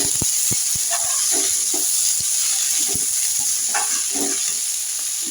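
Vegetables with capsicum fry in a pan for a paneer dish, with a steady hiss and sizzle and repeated scrapes and taps as a spatula stirs them. The sounds are close and clear, and no one speaks.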